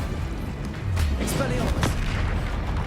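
An Incendio fire spell cast in Hogwarts Legacy on PS5 bursts out mid-battle as a loud, close blast with a rushing flare, layered over continuous combat noise and low rumble.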